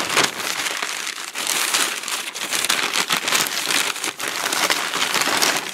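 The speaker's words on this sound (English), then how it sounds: "Let's just unwrap it." Product packaging is unwrapped up close, with continuous loud crinkling and crumpling of plastic wrap, rustling in dense irregular bursts and no talking.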